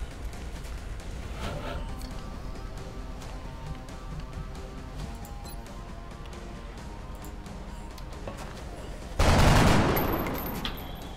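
Rapid bursts of gunfire from the turn-based strategy game XCOM: Enemy Unknown rattle on under game music, ending in a louder, sharper blast near the close.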